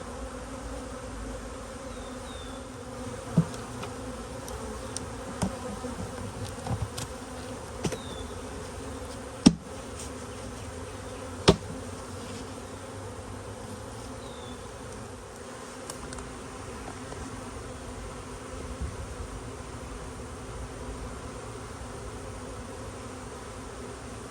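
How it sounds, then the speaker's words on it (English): An open-air swarm of honey bees hangs below a trap, humming as a steady dense drone with a few sharp clicks and knocks breaking through. "I'm seeing bees in this area right here"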